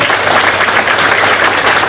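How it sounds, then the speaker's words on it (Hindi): A crowd at a lawyers' enrolment meeting breaks into loud, continuous applause, a close, dense roar of many hands clapping at once with a low hum beneath it. "जोरदार करिए तालियां।"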